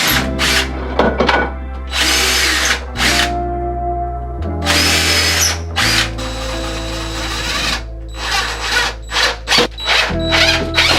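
A power drill drives drywall screws into a wall in repeated loud bursts, its motor whining up and winding down between short pauses, with a few rapid stop-start pulses near the end.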